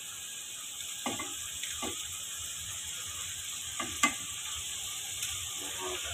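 Green chillies and cubed potatoes are stirred into browning minced meat in a pan. A steady close sizzle runs throughout, broken by a few scraping stirs of the spoon, with no voices.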